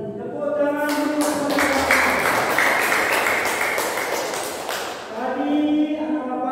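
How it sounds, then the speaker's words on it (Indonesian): An audience in a school classroom gives a round of clapping that begins with distinct sharp claps and thickens into a few seconds of applause. Talking is heard just before and right after. "Tepuk tangan dulu."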